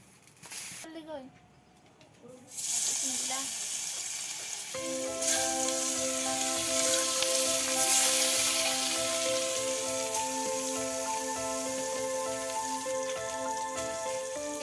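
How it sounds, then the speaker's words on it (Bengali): Fish rubbed with turmeric, salt and chili hits hot oil in a village kitchen, starting a loud, steady sizzle that swells and holds, with faint birdsong outdoors and some talk just before. "মাছ ভাজি করার জন্য প্রথমে তেল দিয়ে দেবো"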